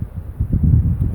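Gusty outdoor wind buffets the microphone in uneven low rumbling surges, loud and close, building in the second half with no voices.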